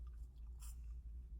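Crunchy fast food fries are bitten and chewed close to the microphone, quiet crisp crunches over a low steady hum, with one brighter snap in the middle.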